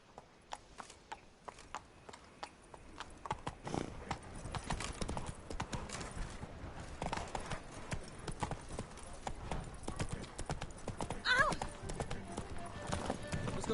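Roach the horse gallops across The Witcher 3 world, hooves pounding in a steady, rapid clip-clop rhythm that stays close and fairly loud throughout, with game sounds and a voice speaking over it.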